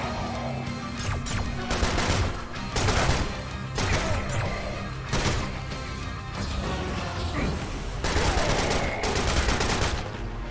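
An AK rifle fires in repeated loud bursts in the shooter game Serious Sam: Siberian Mayhem, with rapid automatic shots broken by short pauses and heavy impacts mixed in.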